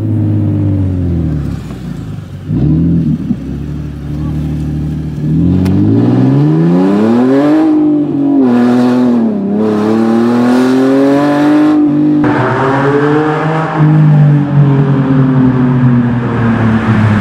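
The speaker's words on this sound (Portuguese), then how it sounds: "Pelo menos agora vocês conseguem escutar o escape do carro" A loud, raspy Nissan 370Z straight-pipe exhaust revs repeatedly up and down, close by, with deep rumbling swells and sharp climbs in pitch.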